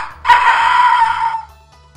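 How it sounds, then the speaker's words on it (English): A rooster crows once, a loud, bright, sustained call of just over a second, heard alone and close by. "The rooster."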